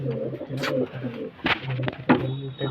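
Pigeons from a pair of black-winged birds coo in repeated low, throaty phrases close by, with a few brief flutters and scrapes between the calls.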